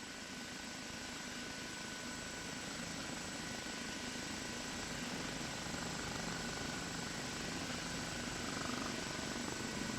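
An OH-58 Kiowa helicopter flying in the DCS combat flight simulator, a steady continuous rotor and turbine drone with a constant high whine, unchanging in level throughout, no talk.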